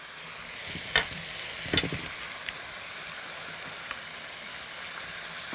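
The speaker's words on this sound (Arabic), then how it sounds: "هبتدي بقى احط اللحمه اللي طالعه من المرقه" Pieces of boiled meat lifted from the broth drop into a hot pan with two sharp sizzling bursts, then settle into a steady, soft frying hiss with occasional small pops.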